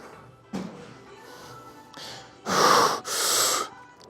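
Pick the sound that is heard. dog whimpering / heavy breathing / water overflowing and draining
heavy breathing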